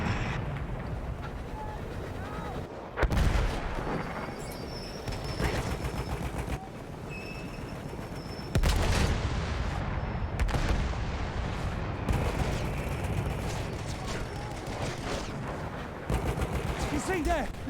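Heavy mortar and gunfire in a video game, with repeated booming blasts and crackling shots layered over a continuous battle din, while someone talks over the action.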